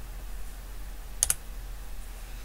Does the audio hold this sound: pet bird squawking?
no